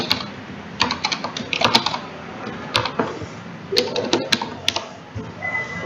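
Someone types a username and password on a computer keyboard, with quick irregular bursts of clicky keystrokes up close, occasional louder key taps, and a faint voice in the background.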